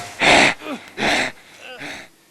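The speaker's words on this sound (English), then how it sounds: "I wanted to just keep the sound of the eyes as simple as breathing" Breathing used as a film sound effect for a pair of eyes, three close, sharp breaths in quick succession, each a short airy gasp with a trailing rasp.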